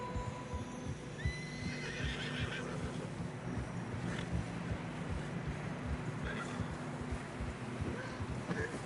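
In Red Dead Redemption 2, horses struggling through fresh snow neigh and whinny over steady wind and a low rumbling background, with faint hoof sounds, no speech.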